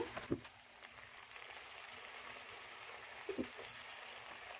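Boiled chicken is added to lightly browned onions in a pan for white chicken biryani, producing a quiet, soft sizzle with two brief clatters of food and utensil against the pan.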